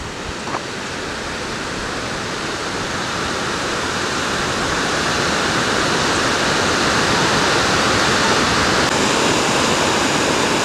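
Steady, loud rushing of a stream flowing over rocks near Table Rock and a footbridge in the New Hampshire mountains, a continuous broadband wash with no voices, building slightly in level.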